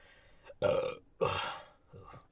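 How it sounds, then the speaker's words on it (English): Two loud, drawn-out burps in close succession, each a rough guttural belch, followed by a softer trailing one. "I'm gonna burp."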